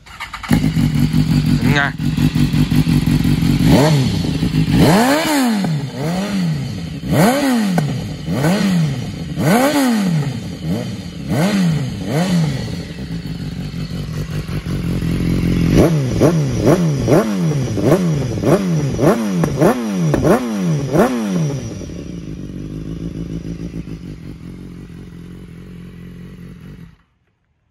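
A serviced motorcycle with about 43,000 km is started and revved repeatedly, each blip rising and falling in quick bursts, loud and close, then it drops to idle and shuts off while people talk nearby.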